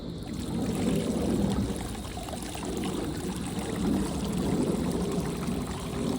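Water poured steadily into a clay olla planter, a continuous splashing, gurgling stream that stays fairly loud and even throughout, with no talk.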